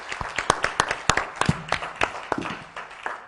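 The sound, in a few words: audience applause for workshop presenters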